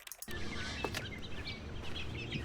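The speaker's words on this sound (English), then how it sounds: "The bird song and lovely pads and things." Soft bird song ambience from The Stanley Parable video game, scattered chirps and tweets over a gentle musical pad, faint and close after a brief quiet start.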